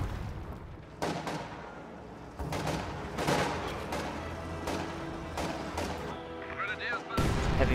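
Heavy mortar fire in a wartime strategy video game booms repeatedly, loud low blasts at irregular intervals, layered with other battle noise and someone talking over it.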